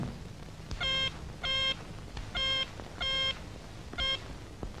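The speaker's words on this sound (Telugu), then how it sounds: "అలాగే ఈ అమ్మాయి పనిచేసే ఎస్టేట్ ఓనర్ గజపతిరావు గారు కూడా ఫోన్ చేయి." An electronic telephone beeps in five evenly spaced, steady tonal bursts while a call is being placed, clear over a faint background hum with no talking.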